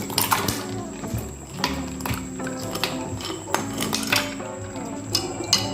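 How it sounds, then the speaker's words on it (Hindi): Ice cubes clinking as they drop into a jug of mint margarita, a series of sharp clinks and knocks against the container, with kitchen clatter throughout. "अब हम इसमें आइस क्यूब डालेंगे।"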